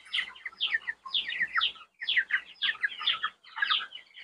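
Broiler chickens 25 days old cluck and chirp in a dense, continuous chorus close by, rising and falling in rapid overlapping bursts with no talking.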